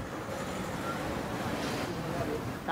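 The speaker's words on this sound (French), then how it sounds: "Sacré vent aujourd'hui." Strong wind gusting around a high bridge over a river, a steady roaring rush of broadband noise buffeting the microphone throughout, with no clear voices.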